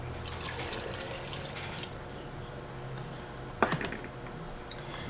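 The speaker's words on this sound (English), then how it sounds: "Also going to add in a half of cup of filtered water." Filtered water trickles and splashes steadily into a blender, ending with a louder splash and a few drips.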